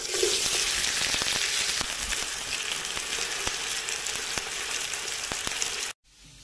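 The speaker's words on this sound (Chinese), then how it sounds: "烙土豆片" Potato slices fry in a home pan with a steady, loud sizzle and crackle that fills the scene for about six seconds, then cuts off abruptly.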